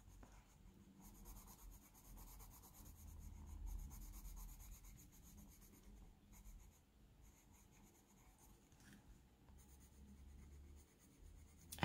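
Coloured pencil shading an olive green onto paper, a soft continuous rubbing scratch with steady back-and-forth strokes, close and quiet throughout.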